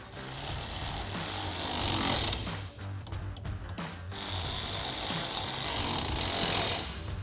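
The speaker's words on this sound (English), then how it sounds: "we'll grab that T30 Torx socket to tighten these down" A power tool with a T30 Torx socket drives and tightens bolts on a Jeep Wrangler JL soft top bracket, a loud continuous whirring buzz broken by a few short bursts and stops in the middle.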